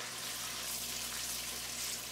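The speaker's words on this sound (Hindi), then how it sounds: "जिंजर गार्लिक पेस्ट अच्छी तरह से भून लें।" Ginger garlic paste frying in a pan for a restaurant-style egg gravy, giving a steady, close hiss of sizzling oil that runs evenly throughout with no talking.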